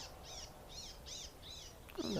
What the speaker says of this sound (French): Je pense que c'est une fauvette qui gueule.